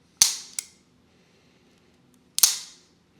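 Dry-fire clicks from an IWI Jericho 941 pistol during a function check: a sharp metallic snap followed quickly by a softer click, then another crisp snap after a pause, close and clean with no voices.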